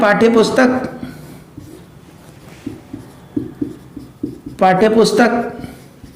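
A pen scratches across paper in short strokes, close and soft, with a person talking at the start and again at the end while the writing continues between.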